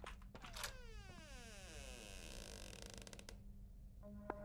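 Squeaky doors in the video game Poppy Playtime, a long, drawn-out metallic creak with sliding pitch, followed by a clunk and a faint short squeak at the end, no speech.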